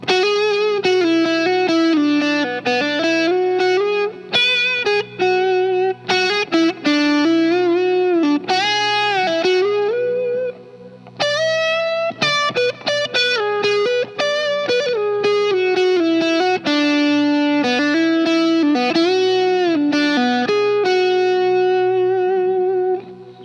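Distorted electric guitar plays a long improvised pentatonic lead phrase with an added major sixth, with quick runs, bends and sustained notes, loud and alone without any voices.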